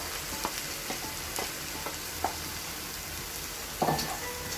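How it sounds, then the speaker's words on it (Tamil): Tomato, ginger and garlic paste sautéing with onions in a pan for mushroom masala, a soft steady sizzle broken by a few scattered spoon taps and stirring scrapes, no voices. "இந்த டைமில் நம்ம அரைச்சி வச்சுருக்க இந்த தக்காளி இஞ்சி பூண்டு பேஸ்ட்டு விழுதை இதில் போட்டுக்கலாம்."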